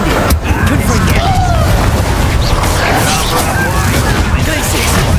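Spell blasts and booming bursts from the Hogwarts Legacy video game fill a dense, loud combat mix that runs steadily with layered impacts, crackles and effects, and a voice is faintly present underneath.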